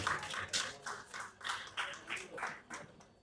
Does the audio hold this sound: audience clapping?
yes